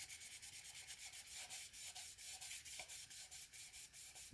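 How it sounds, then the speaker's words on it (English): Steady rhythmic rubbing of a cloth wiping alcohol ink off a ceramic plant pot, soft and close, repeated strokes at an even pace. "And then just give it a bit of a wipe."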